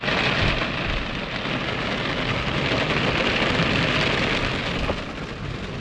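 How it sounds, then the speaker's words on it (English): Heavy rain pours down during a thunderstorm, a dense continuous roar of drops hammering surfaces nearby, loud and unbroken with a faint low rumble underneath. "It's really raining."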